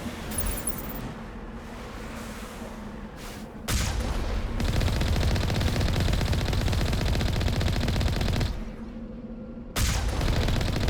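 Heavy rocket and weapon fire blasting in Mass Effect Legendary Edition, loud sustained bursts of explosive gunfire with brief quieter gaps between barrages.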